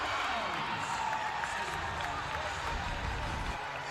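Basketball arena crowd during a close college men's game, a steady, loud roar of cheering and clapping that fills the space without breaks.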